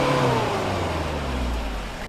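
A Toyota Hilux LN106 rock crawler's engine revs hard during a front dig with the rear brakes locked, a loud, close, continuous roar whose pitch slowly sags over two seconds.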